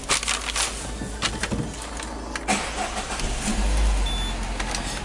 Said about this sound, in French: Donc on démarre le véhicule.